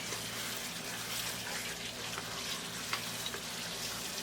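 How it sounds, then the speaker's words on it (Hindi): Mutton frying and being stirred in spices over a high flame for biryani, a steady loud sizzle with faint stirring scrapes throughout, no talk. "अब फ्लेम को हम हाई करेंगे। अब इसके अंदर मटन शामिल करेंगे। मटन की अच्छी तरह से भुनाई करेंगे।"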